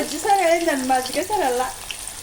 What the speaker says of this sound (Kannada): ಎಣ್ಣೆ ಕಾದಿದ್ದಾದ್ಮೇಲೆ ಸಾಸಿವೆ ಸಿಕ್ಕಿದ್ದಾದ್ಮೇಲೆ